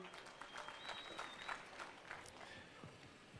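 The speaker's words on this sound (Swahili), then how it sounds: "Mheshimiwa Kawaya, wapungie makofi." A crowd applauds a member of parliament being introduced at a gathering, with continuous clapping that stays fairly quiet and distant and has a faint voice underneath.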